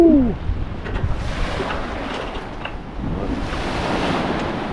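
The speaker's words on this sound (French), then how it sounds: "Les vagues ont diminué, le vent avec, évidemment." Steady wind and rolling ocean waves wash over a sailboat crossing the Atlantic, a continuous close rush of surf and air with a brief tonal whine at the start.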